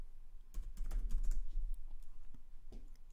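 Typing on a computer keyboard, a quick run of soft, close key clicks and taps with a low hum underneath, fading to a few last keystrokes.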